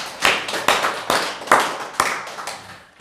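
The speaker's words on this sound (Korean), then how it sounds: "삼성전자를 들을 쓰시고 SK 하이닉스를 들을 쓰시는 하나님께 박수를 영광을 돌리겠습니다." A church congregation claps in a few slow, uneven bursts, about six sharp strokes spaced roughly half a second apart, each trailing into room echo, with no speech.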